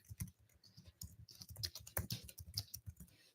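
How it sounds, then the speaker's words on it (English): Rapid typing on a computer keyboard, a dense run of quick close-up key clicks with a few louder strikes, fairly quiet throughout. "Y'all hear me typing so fast?"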